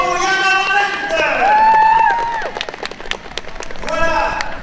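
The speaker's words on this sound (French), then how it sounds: "Un applaudissement pour Jana Van Lent" Spectators at a wintry international cross-country race applaud runner Jana Van Lent, their scattered claps rising over crowd noise and voices, with a louder cheering swell near the end.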